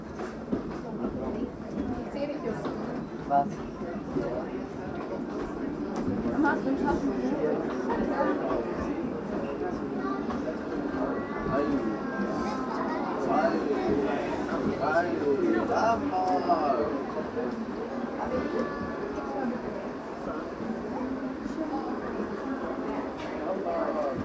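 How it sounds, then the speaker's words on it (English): A train rumbles steadily along the rails with faint clattering, while people chatter and talk in the background throughout, aboard the Wildlife Express Train at Disney's Animal Kingdom. "Remain seated until the train comes to a complete stop"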